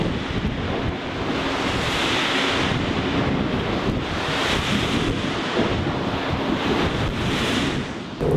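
Strong wind buffets the microphone at the Vattenfall Kriegers Flak offshore wind farm, a loud steady roar with surf-like rushing and no talk.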